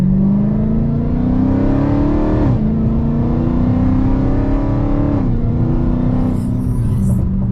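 A car engine drones steadily with a high whine that climbs in pitch, drops, and climbs again, close and loud throughout.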